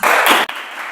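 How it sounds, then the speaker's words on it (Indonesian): Brief burst of audience applause at an Indonesian talk event, loud clapping that cuts off abruptly after half a second and leaves a softer hiss of room noise. "tepuk tangan untuk Kak Tamas"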